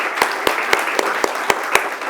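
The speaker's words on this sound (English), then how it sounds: "Please give him a round of applause for this evening." An audience applauds at the end of an evening talk, a close, fairly loud wash of clapping with a few sharp, evenly spaced louder claps standing out about every quarter second, no voices.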